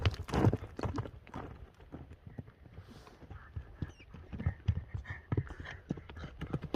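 Hooves of a horse ridden at speed by its rider thud and clatter in quick irregular beats on the ground, fairly faint and somewhat distant, with no talking.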